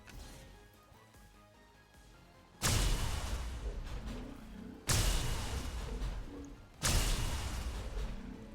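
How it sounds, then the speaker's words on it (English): Three loud explosions in the video game XCOM Long War go off one after another at roughly two-second intervals, each a sudden broadband blast with a lingering rumbling tail, over quieter game ambience. "How did that explosion not take down the cover for that shield bearer?"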